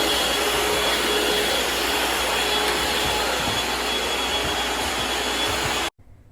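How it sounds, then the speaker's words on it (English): A Shark vacuum mop runs with a steady, loud whooshing drone that cuts off abruptly near the end. "I'm just loving this Shark vacuum"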